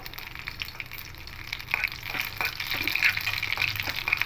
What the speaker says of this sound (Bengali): তেলের মধ্যে কালো জিরে ফোড়ন দেব আর দুটো শুকনো লঙ্কা দেব